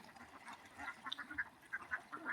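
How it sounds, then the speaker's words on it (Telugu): Ducks or other waterfowl among thousands of birds bathing and splashing in water in summer heat, giving a string of short, fairly faint quacking calls over a soft noisy background. "వాటి కిలకిలలు, వాటి హాలు చూడండి."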